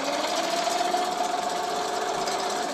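Singer 367 sewing machine running steadily as it stitches, a continuous close mechanical whir with a fine rapid rattle and a faint tonal hum, no talking.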